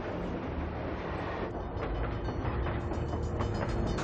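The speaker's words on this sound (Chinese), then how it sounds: "这条铁路上只跑一种火车，那就是载重超过2万吨的重载列车。" A heavy-haul freight train carrying over 20,000 tons rolls along a reinforced railway in northern China, a continuous loud rumble with a steady broadband roar and faint rhythmic clatter from the wheels.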